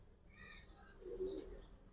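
A male pigeon coos faintly, a short low murmuring call against a quiet background hum, with a few soft higher bird calls just before it.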